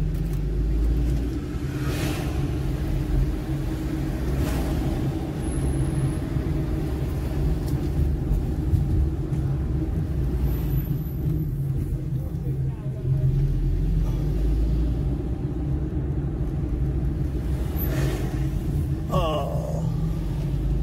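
Steady low rumble of a car driving on a hot day, heard from inside the cabin, with a continuous engine and road drone throughout and a few faint higher noises.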